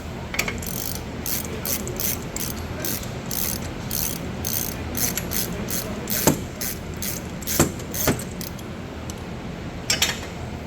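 Ratchet socket wrench turning a camber bolt on a Mopar car, giving rapid, steady mechanical clicking strokes close up, with a few louder clunks as the bolt loosens, and no voices.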